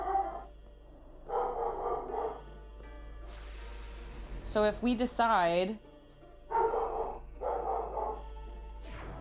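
A dog barks at the door, two sharp close yelps in quick succession, loud between stretches of indoor talking, with game sounds and a faint steady hum beneath.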